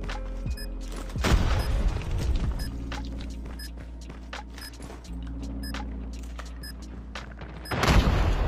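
In a Call of Duty Mobile match, a FAMAS fires scattered sharp shots and short bursts, with heavier blasts near the start and end over a low steady game background.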